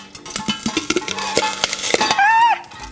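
Popcorn kernels being stirred in oil in a pot on the stove, giving close, busy scraping and clinking with a faint sizzle throughout, ending in a brief squeaky scrape.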